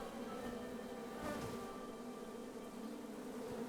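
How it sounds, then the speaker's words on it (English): Steady, close buzzing of a bee swarm in the video game King's Quest Tactics, a continuous hum that holds even for several seconds. "Go away, bees."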